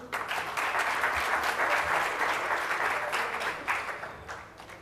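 An audience at the CADE 2017 conference applauds speaker Peter Hakim, many hands clapping together in a full, sustained burst that swells and then gradually eases off.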